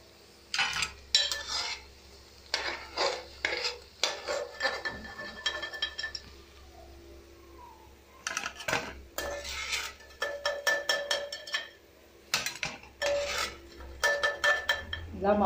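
Vada batter ingredients are mixed by hand in a bowl, making bursts of close, gritty rasping and scraping with metallic clinks, separated by short pauses.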